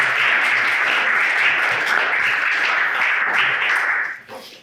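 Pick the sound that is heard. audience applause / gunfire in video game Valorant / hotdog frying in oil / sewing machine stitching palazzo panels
audience applause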